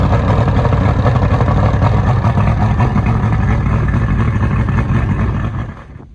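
A personal watercraft engine is cycled over, giving a steady, loud mechanical churn that runs for several seconds before cutting off near the end.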